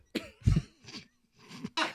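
Several short, harsh coughs burst out in quick succession, close and fairly loud, separated by brief pauses, with a sharper final cough at the end.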